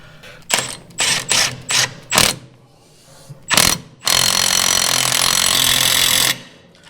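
An impact gun driving a nut onto a stud over a homemade spacer of stacked washers: several short hammering bursts, then a sustained loud rattling run of about two seconds, close up in a workshop.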